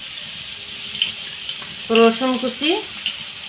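Whole cumin seeds and chopped onion sizzle in hot oil in a kadai, giving a steady close hiss throughout while a voice speaks briefly partway through.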